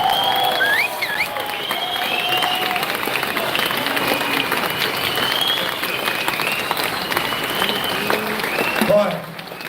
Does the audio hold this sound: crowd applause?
yes